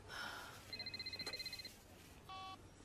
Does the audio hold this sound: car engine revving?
no